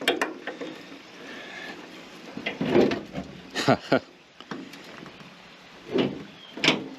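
Rear door hinge on a Chevy Express van being forced with a tool, giving clunks, creaks and metallic ratcheting knocks in uneven bursts, close by, with someone talking at times between them.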